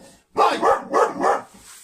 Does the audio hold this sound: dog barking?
yes